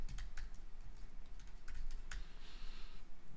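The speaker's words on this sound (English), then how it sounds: "I'll just type in what did I say? Start a project." Typing on a computer keyboard while entering text into a web page, heard as quick, close clicking keystrokes in short bursts over a low background hum, with no talking.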